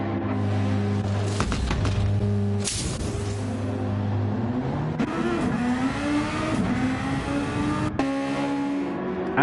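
Formula racing cars roar through a video game race, with loud high-pitched engines rising and falling as they rev, shift and pass one another at close range, and no talking over them.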